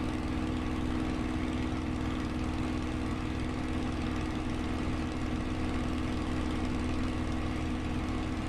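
Steady droning piston engine of a Spitfire L.F. Mk IXc warbird in Microsoft Flight Simulator, throttled back to a low, even rumble with propeller hum, continuous and unchanging throughout.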